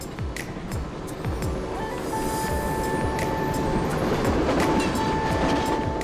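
A train in Myanmar rolls steadily along its rails at under 80 km/h, rhythmic clickety-clack close by, with a faint squeal of wheels rising as it runs.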